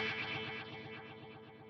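Guitar tone run through an Axe-Fx delay block with its modulation depth set near 20%, the repeats smearing into a wavering, chorus-like wash that slowly decays over under two seconds.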